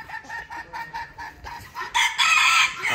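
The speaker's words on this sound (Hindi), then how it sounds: "नीचे मुर्गे जे हैं, ते उपर कबूतर है लगे" Farm chickens and roosters cluck in quick, repeated bursts at close range, with louder, busier clucking and squawking building toward the end.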